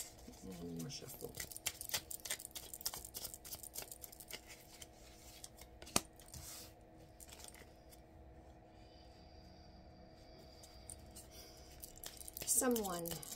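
A deck of tarot cards is shuffled by hand in a quick run of crisp, close riffling clicks that thin out to softer handling, with a voice briefly at the end.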